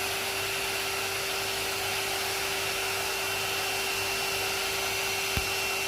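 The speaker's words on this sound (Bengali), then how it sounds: "আমি কিন্তু মিডিয়ামে রেখে হেয়ারটা ব্রাশ করতেছি।" An electric hair dryer brush run on its medium setting while brushing hair, giving a steady continuous whir with a constant tone that holds unbroken throughout, close by and fairly loud, with no talking.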